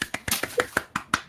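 A quick run of about seven sharp hand claps or taps in an even rhythm, close and dry, with nothing else audible.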